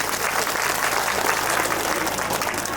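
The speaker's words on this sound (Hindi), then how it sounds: "बहुत ताली बजा दो भैया" An audience at a Bhagwat Katha religious gathering claps steadily, a thick, sustained roar of many hands at even loudness throughout, filling the space with no pauses.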